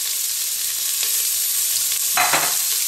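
Onions frying in hot oil at the bottom of a pot, a loud, dense, continuous sizzle with a brief stirring scrape partway through, close and alone without voices.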